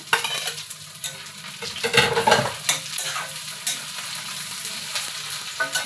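Chopped tomato goes into browned onions and garlic frying in oil in a pan while making Bengali dal makha, giving a steady close sizzle with stirring scrapes and a brief louder burst near the middle, with no talking.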